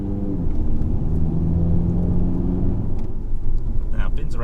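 A car is driven through a right-hand bend on a residential road, its engine note rising steadily under acceleration with a continuous close rumble of motor and tyres, and a voice talking over it.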